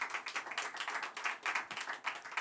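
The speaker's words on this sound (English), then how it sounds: "they deserve a round of applause" Panel audience at a COP28 climate finance session clapping for the panelists, a dense, steady patter of many hands close by with no talk over it.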